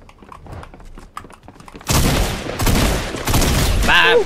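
Shotgun blasts in the Fortnite battle royale game: quiet clicks and footsteps, then a sudden loud burst of gunfire that keeps roaring near and harsh, with a metallic ringing flourish at the end.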